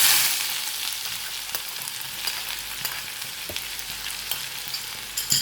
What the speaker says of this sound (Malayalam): എണ്ണ ചൂടായിട്ടുണ്ട്. ഞാനിവിടെ 1 ടീസ്പൂൺ കടുക് ഇട്ട് കൊടുക്കുകയാണ്. വെളുത്തുള്ളിയും ഇഞ്ചിയും ഇട്ട് കൊടുക്കാം.